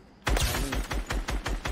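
A machine gun firing in the Fortnite video game, a rapid close burst of about eight sharp shots in quick even rhythm, loud with no talking.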